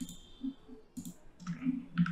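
Computer mouse clicks while working in Blender 3D: several quick, crisp clicks spaced irregularly over two seconds, close and fairly quiet with no talking.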